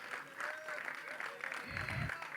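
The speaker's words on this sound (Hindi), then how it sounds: "एक बार जोरदार तालियां" A crowd at a film trailer launch event claps for unseen heroes: a short, muffled wash of applause heard at a distance, with a voice talking over it.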